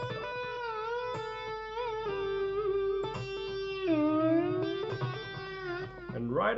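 An electric guitar lick flowing with slides, hammer-ons and pull-offs, singing legato notes that bend and glide, fairly quiet and close with a rising slide at the end.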